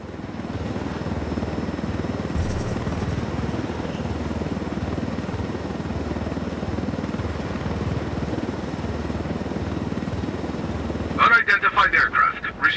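Continuous loud helicopter rotor drone from a chopper flown in the video game Ghost Recon Wildlands, steady throughout, with a brief burst of radio-style voice breaking in near the end.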